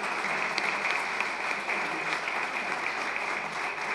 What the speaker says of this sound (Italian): facciamo l'applauso al coro.